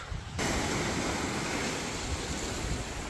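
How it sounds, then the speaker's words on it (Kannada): Sea waves at Kannur's Ayekere bay beside St. Angelo fort roar as a continuous, loud wash of surf, with wind buffeting the microphone and no voices. "ಎಲ್ಲಿ ನೋಡಿದ್ರು ಫುಲ್ ನೀರು ನೀರು ನೀರು ಇಲ್ಲಂತೂ ನೀರು ಹೇಗೆ ಬರ್ತಿದೆ ನೋಡಿ"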